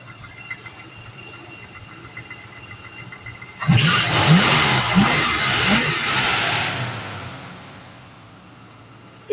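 A 1972 Plymouth Duster 340 V8 sits idling low and quiet, then is blipped into a series of sharp, close revs that swell loudly and slowly fade back toward idle.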